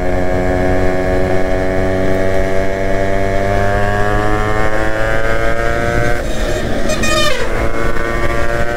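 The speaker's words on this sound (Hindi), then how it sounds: "Modify muffler." A Yamaha RX motorcycle fitted with a modified muffler drones loudly and continuously while cruising, its exhaust note holding steady with a slight drift in pitch and a brief higher squeal near the end.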